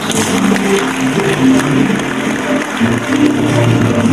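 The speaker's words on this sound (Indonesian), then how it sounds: "kita berikan tepuk tangan untuk kita semua" Audience applause at an Islamic talk, a loud, dense spread of many hands clapping with some crowd murmur, sustained evenly throughout.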